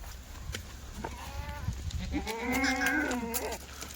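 Kathiawadi goats bleat at a goat sale, with a quieter call early on and then a loud, wavering bleat near the end, set against low farmyard background noise.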